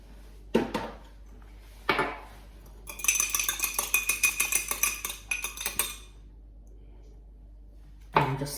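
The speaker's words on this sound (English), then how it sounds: "And just stir that through like that." Beaten egg and vanilla being stirred into gluten-free raspberry bun mixture, with a few isolated clinks of the spoon against the bowl, then a burst of rapid close scraping and tapping strokes before a final knock.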